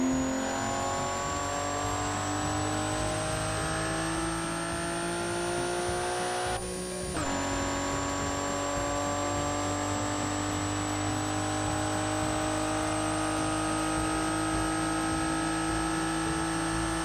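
A car laps a test track in the Automation game, its engine a steady, loud continuous drone with a brief gear-change dip partway through, then holding high revs for the rest of the lap.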